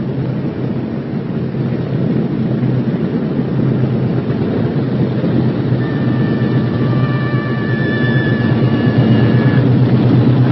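Engines of a Boeing B-17 Flying Fortress bomber run in a steady, heavy droning roar, loud and continuous throughout with no talk.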